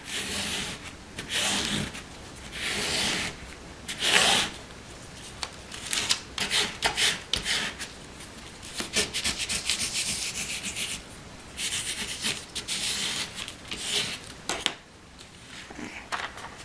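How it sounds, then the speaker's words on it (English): Transfer tape is burnished down over vinyl flowers, a close, soft rubbing and scraping in repeated strokes with short pauses between passes. "the glossy side you're going to place down on top of your flowers and burnish it again"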